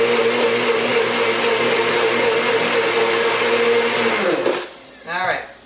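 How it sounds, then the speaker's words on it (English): A NutriBullet blender whirs steadily as it purees homemade dog food, a loud continuous motor roar that cuts off near the end, followed by a brief voice. "we'll just mix that up in my NutriBullet"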